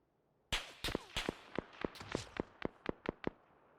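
Rapid sharp gunshots from a rifle fitted with a muzzle brake in the PUBG video game, about a dozen cracks in a fast, slightly uneven burst, loud and close with a short ringing tail.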